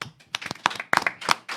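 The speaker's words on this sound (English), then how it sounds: "Let's give the deacon a round of applause." An audience applauds a deacon after his class, a burst of hand clapping with uneven, scattered claps rising and falling over a second and a half, fairly close.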